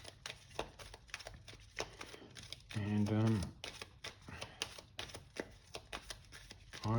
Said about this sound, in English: and you give them a good shuffle.